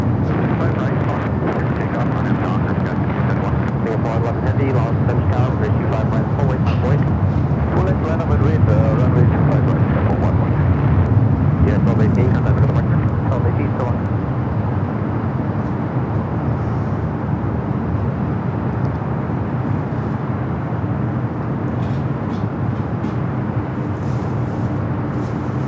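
A Singapore Airlines airliner powers up for takeoff at LAX, a heavy sustained jet-engine roar swelling to a peak midway then easing off, with someone talking over it.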